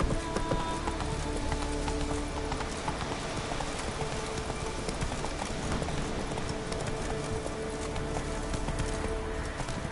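Roach the horse gallops in The Witcher, a steady rapid clip-clop of hooves running continuously through a dense, noisy game soundscape with no pause.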